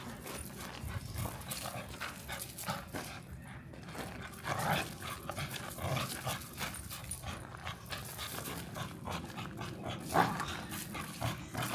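A dog plays tug with a toy during training, panting and giving short growls and whimpers as it pulls, with scuffling and shifting noises around it, fairly faint and steady throughout.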